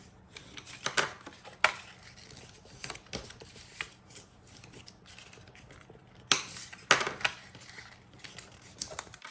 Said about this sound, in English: we've got the score lines here, so I'm going to fold on all of those, including the little tabs